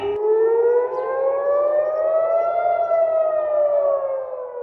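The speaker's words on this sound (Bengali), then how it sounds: "জেরুজালেম সহ আশপাশের এলাকায় জরুরি সাইরেন বাজিয়ে সেখানকার বাসিন্দাদের সতর্ক করে তেল আবিব" A loud civil defense siren in Jerusalem wails steadily, its pitch rising slowly then easing down, sounding alone without any voices.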